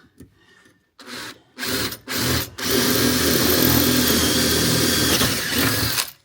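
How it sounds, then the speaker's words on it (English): A power drill with an 11mm bit, working in a Land Rover Defender L663 90 interior, starts in a few short bursts, then runs continuously and loudly for several seconds, grinding steadily before stopping. "So we'll get a 11mm drill."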